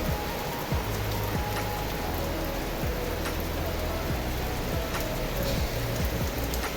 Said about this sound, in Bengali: দেখো আরও জোরে বৃষ্টি চলে এসেছে।